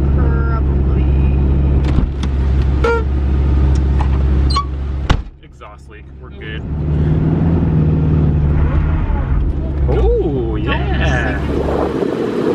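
A lifted minivan being driven, apparently smoking, its engine running with a steady rumble, a sharp knock and a brief lull midway, then the engine noise building again.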